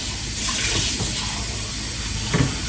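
A cup of water is poured into a crockpot holding a pork loin roast, giving a steady hissing splash that runs throughout with a brief louder slosh near the end.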